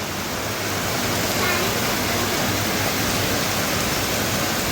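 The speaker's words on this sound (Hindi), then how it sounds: "अभी मैंने बोली थी थोड़ी देर पहले कि धूप आ गई है और अब एकदम ज़ोरों की बारिश आ गई।" Heavy rain pours in a dense, continuous roar that is loud and steady throughout, with no other clear sounds.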